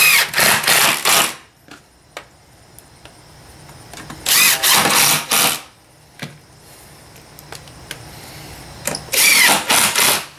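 A power drill drives screws into a front entry door threshold in three loud, close bursts of whirring, each lasting about a second, separated by quiet pauses with faint clicks.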